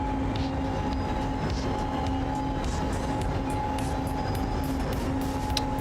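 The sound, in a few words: train running in SimRail video game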